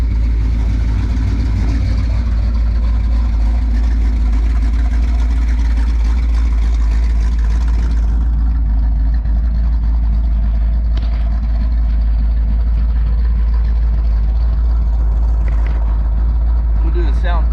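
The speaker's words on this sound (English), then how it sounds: "While the car is running, I'm going to go ahead and let you listen to the way it sounds," A 1977 Pontiac Trans Am idles with a steady, deep exhaust rumble recorded close outside the car, a continuous low drone holding throughout with no voices over it.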